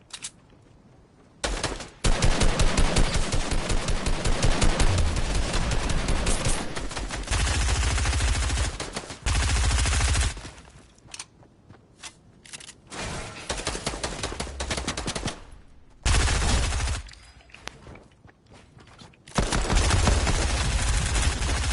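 Rapid gunfire bursts in the Fortnite video game during a headshot exchange, loud and repeated in long automatic strings separated by short pauses.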